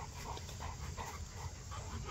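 Cane Corso dogs pant steadily and rhythmically close by, a continuous breathy huffing over low background rumble.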